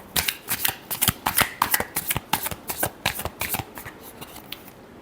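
A deck of tarot cards is shuffled by hand, a quick run of crisp riffling flutters and soft slaps in a close, uneven rhythm, with nothing else heard.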